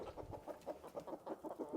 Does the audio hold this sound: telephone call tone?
no